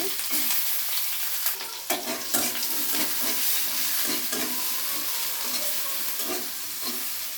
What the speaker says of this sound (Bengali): আবার দিয়ে দিব পর্যাপ্ত পরিমাণ সয়াবিন তেল, দিয়ে দিব কাঁচামরিচ আর পেঁয়াজ কুচি